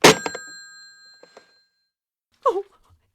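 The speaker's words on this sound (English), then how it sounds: "Oh, why did I hang up the phone like that?" A telephone handset is dropped onto its cradle in an old radio drama, giving a sharp clunk and a ringing bell chime that decays, then faint thumps and a woman's distressed sigh or moan.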